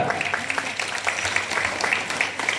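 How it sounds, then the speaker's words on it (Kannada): An audience claps steadily through the whole stretch at a gathering of village elders with Sri Ananda Devaru in Hulyal, a dense, even patter of many hands at moderate volume with no voices over it. "ಮುಗಿಸ್ರಿ ಅಂತ ಚಪ್ಪಾಳೆ ತಟ್ಟಾಕತ್ತೀರಿ"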